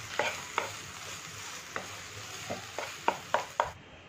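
Mango chutney mixed with a tempering of chillies, curry leaves and oil being stirred in a bowl, giving a series of short, separate scraping and clinking strokes at an uneven rhythm, close and fairly quiet, with no talking.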